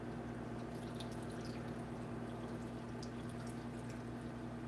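Liquid poured steadily over a doll, a continuous soft watery trickle and splashing held at an even level throughout, fairly close with no talking.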